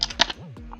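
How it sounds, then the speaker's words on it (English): A computer keyboard being typed on at close range during a hacking tutorial, producing a quick, uneven burst of sharp keystroke clicks over less than a second. "Let's just type it."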